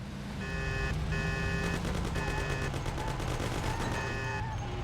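Rapid gunshots ring out continuously in Mafia, dense and loud over a steady engine drone, with repeated tonal beeping layered on top and no talking.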